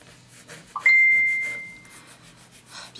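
A phone notification chime rings once as a clear, bright tone that rings out and fades over about a second, with faint rubbing and handling sounds around it during paper crafting of a Christmas album page.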